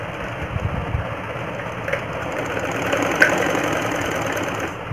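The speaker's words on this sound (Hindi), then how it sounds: "इस तरीके से मैं इसमें सीधी सिलाई लगा दूँगी" A sewing machine runs continuously with a fast, steady mechanical whir and chatter while stitching a straight seam on a cloth baby pant, close and moderately loud.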